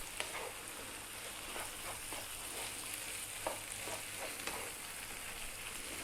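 Chili, cumin, coriander and turmeric powders stirred into a pan, a quiet, steady sizzle with soft scraping taps from the stirring.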